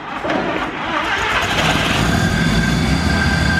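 A Mazda RX7 Series 1 rotary engine, sitting unused for ten years, catches and fires up, settling into a loud, steady, rough idle that runs on continuously close by.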